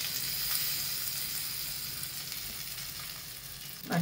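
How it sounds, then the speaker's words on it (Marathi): Curry leaves crackle and sizzle in hot oil for a tempering in a home kitchen, a steady close hiss that runs throughout with a brief louder burst at the very end. "कढीपत्त्याची पानं टाकते. छान झाली फोडणी."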